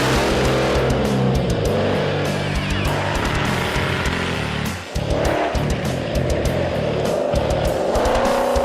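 A 5.0-litre, 347-horsepower car engine racing hard, a loud sustained roar with steady high revs throughout, briefly dipping for a moment midway before surging back with tire noise.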